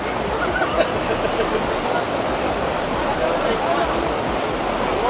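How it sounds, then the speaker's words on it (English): Heavy rain pours down at a BMX track during a national series round, a steady broadband hiss of downpour close and constant throughout with no talking. "this is the rain"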